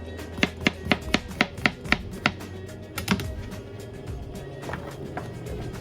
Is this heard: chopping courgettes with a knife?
yes